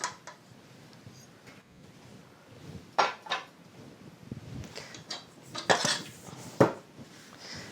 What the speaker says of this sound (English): Remove the dough hook.